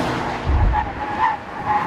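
A BMW M4 drifts with a continuous, close tire skid and engine roar, steady and loud throughout with slight swells.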